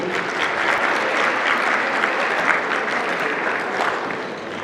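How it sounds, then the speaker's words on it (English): Sustained applause from a crowd honouring netball delegates at a closing function and awards ceremony, a dense steady wash of many hands clapping without a break for the whole stretch. "Can we give them a round of applause?"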